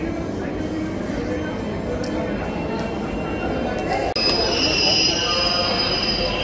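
A Kolkata metro train running toward New Garia, with a loud continuous rumble and high, drawn-out wheel squeals that sharpen near the end, heard close from inside the car; voices murmur under the noise.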